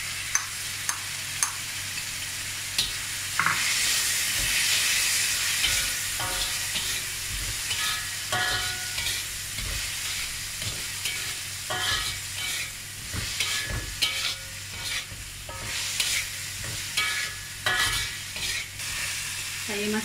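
Frozen mixed vegetables are stir-fried in a pan with little oil for fried rice, a steady sizzle with repeated scraping and clattering of a spatula against the pan, close and continuous, no talking.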